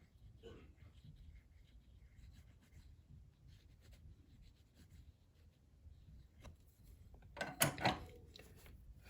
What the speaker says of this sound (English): I use a burnishing tool. I just go back and forth, make sure those fibers are sealed.